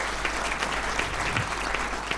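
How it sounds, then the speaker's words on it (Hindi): An audience at a kavi sammelan poetry gathering breaks into loud, sustained applause to welcome a poet onto the stage, a dense, steady wash of clapping from many hands with no talk over it. "स्वागत कीजिए जोरदार तालियों के साथ"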